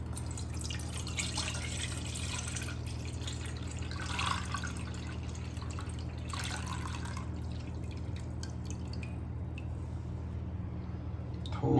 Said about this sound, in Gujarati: આપણે બીજા વાસણમાં ગાળી લઈશું બધા પાણીને